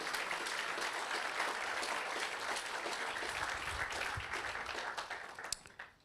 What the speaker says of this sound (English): We'll do a clap there, of course.